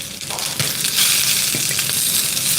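Steady sizzling and frying of chopped raw mango with curry leaves and salt in a hot pan, loud and close, with a few soft stirring clicks over the continuous hiss.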